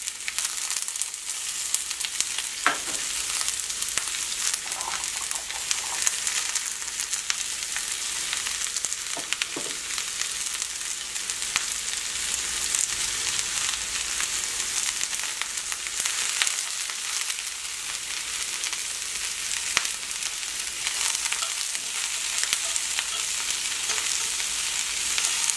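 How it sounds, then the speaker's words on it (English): Celery and onions fry steadily in a pan for Thanksgiving dressing, giving a continuous crackling sizzle with occasional small pops and stirring scrapes, no voices. "You want to cook your celery and your onions until they get soft."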